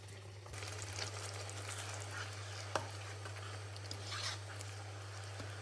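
Shakshuka cooking in a pan over a high gas flame, a faint, steady low sizzle and bubbling with a constant hum beneath and one brief click.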